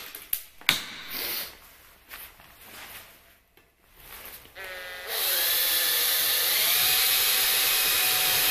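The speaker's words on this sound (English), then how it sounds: "So I'm going to drill a little hole in the centre." Power drill boring a small hole in the centre of a piece of scrap steel. Faint knocks and handling come first, then the drill whines up steadily and holds a loud, sustained tone through the last few seconds.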